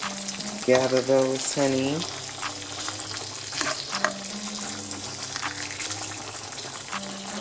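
Italian sausages fry with a steady sizzle in a pan as they are stirred, a soft hiss under background hum, with brief speech and some tonal sounds layered on top.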